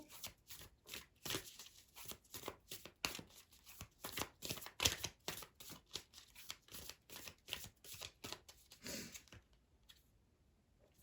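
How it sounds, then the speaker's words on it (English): Ancestors and Angels oracle cards shuffled by hand in quick, repeated riffling bursts, close and fairly quiet, fading to near silence at the end. "I'm going to pull a Ancestors and Angels card for you."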